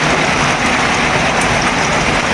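Rain falling in a steady, loud, dense hiss close by, continuous throughout with no voices.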